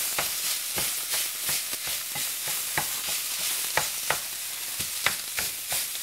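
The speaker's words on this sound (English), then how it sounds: "let's go over there and check out our sausage and get that. Oh yeah, that's cooking up nice" Sausage frying in a pan, a steady close sizzle punctuated by regular sharp pops and spatters throughout, with no voices.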